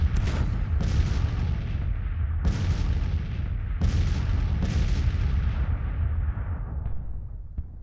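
Booming artillery and gunfire from the Grand Tactician: Civil War video game, set in the 1862 battle for Washington: several heavy blasts roll over a dense, continuous rumble of distant firing.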